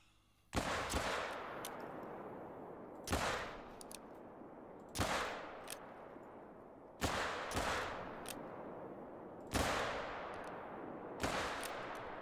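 Gunfire in the hunting video game theHunter: Call of the Wild: about six loud, sharp shots spaced a couple of seconds apart, each ringing out with a long reverberant tail, with no talk over them.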